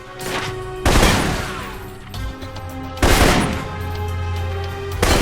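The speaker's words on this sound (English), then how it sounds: "For long-range encounters, the assault rifle's the key" Assault rifle gunfire from the PC game Alpha Protocol: two loud, close bursts of rapid shots, one near the start and one midway, each trailing off over steady tonal game music.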